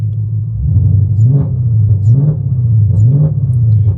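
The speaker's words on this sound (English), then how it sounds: "let's give it a little rev now with the physical therapy band on it" A supercharged 2024 Mustang GT engine revs under light throttle, a steady low rumble rising and falling in three gentle swells, close and fairly loud with no talk.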